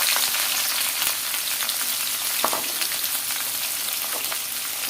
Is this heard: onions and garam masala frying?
yes